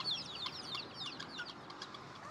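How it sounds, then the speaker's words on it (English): Small chicks and chickens at a roadside stop in Kansas give faint, high cheeping calls in quick repeated bursts over soft background noise. "Oh, look at the wee chickadees."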